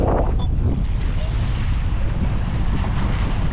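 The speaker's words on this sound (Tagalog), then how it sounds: "Medyo maalon, malakas ang hangin." Strong wind buffets the microphone by the sea at a fishing area in Jeddah, Saudi Arabia, a constant low rumble with the wash of choppy waves beneath, loud and unbroken.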